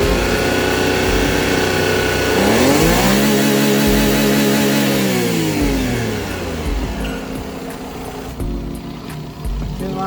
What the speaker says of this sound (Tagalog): Pagka inapakan mo ng sagad yung accelerator mo, is parang nagwa-wild siya, mag-iingay